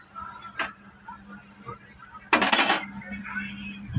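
Rohu fish pieces slipped into simmering curry gravy in a pan, giving a brief loud sizzling splash burst mid-clip after a sharp clink, with a steady low hum beneath.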